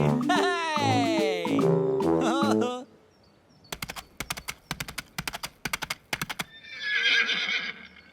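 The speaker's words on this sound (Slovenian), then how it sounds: "Tinky Binky se je pretvarjal, da je konj." From a children's TV show: a horse whinnies loudly and at length, then hooves clip-clop in a quick, steady rhythm, followed by a brief burst of brighter sound.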